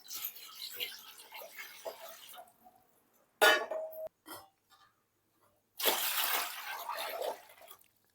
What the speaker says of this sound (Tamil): இந்த பாத்திரத்தினால நான் வந்து ஜலம் விட்டுக்கிறேன்